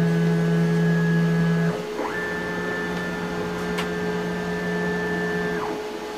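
A tool changer machine's gantry travels back toward its park position, giving a steady motorized whine with stepped tonal shifts as the axis moves, pausing briefly between moves and continuing at an even level with no talking.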